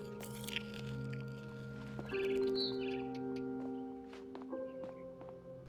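Short chirps of a barn swallow outside a window in the video game What Remains of Edith Finch, scattered bright calls over a sustained tonal musical bed, with a few brief clicks.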